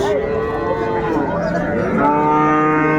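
Cows and calves at Raniganj cattle haat in Dinajpur, a dairy-breed cattle market, with a loud drawn-out moo that rises and bends, then a second lower call overlapping, set against a dense crowd murmur.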